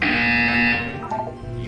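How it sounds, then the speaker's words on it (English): A loud, steady electronic buzzer drones for about three-quarters of a second, then cuts off into a quieter fading tail, with no one talking over it. "You will hear a buzzer. When you hear the buzzer, look down at the floor."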